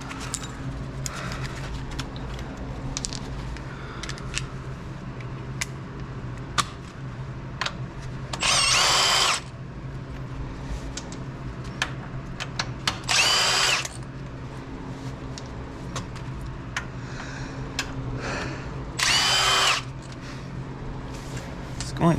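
A handheld power tool whirs in three short bursts, each lasting about a second, during a 2001 Miata 6-speed transmission removal in a garage, with scattered clanks and background noise between runs.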